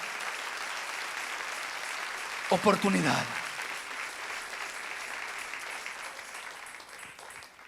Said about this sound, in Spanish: Dale ese aplauso al Rey